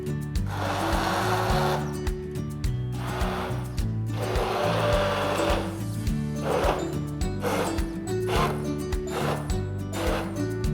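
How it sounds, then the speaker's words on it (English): A hand blender whirs through cooked vegetarian mulligatawny soup, loud and close, its motor pulsing in repeated bursts as it is worked through the pot. "I'm going to blend it using a hand blender."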